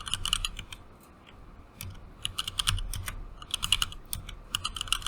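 Quick, uneven bursts of computer keyboard typing while writing a document, clicky keystrokes in clusters with short pauses, close and fairly quiet, with no talking.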